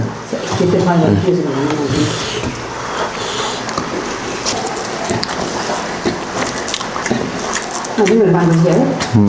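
Rain falling, a continuous patter and dripping rustle under a voice that talks at the start and again near the end.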